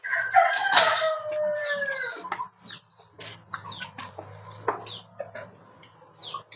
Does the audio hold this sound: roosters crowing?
yes